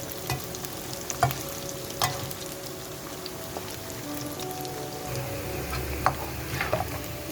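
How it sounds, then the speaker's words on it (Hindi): Cut potatoes fry in a pan of hot oil with a steady, dense sizzle and crackle throughout, punctuated by a few sharper pops and light clinks, with no one speaking. "जो हमने आलू काटे थे हम इनको पहले फ्राई करेंगे।"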